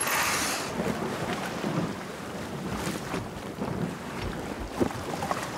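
A sailboat sets out to sea, heard as steady wind buffeting the microphone over rushing water and waves, with faint creaks and knocks from the boat and no talk.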